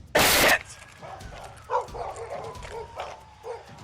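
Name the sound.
dog barking during police standoff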